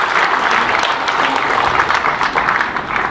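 Applause from a large audience at an Indian biography event honouring Hansraj Chauhan, steady and dense throughout, with no talk over it.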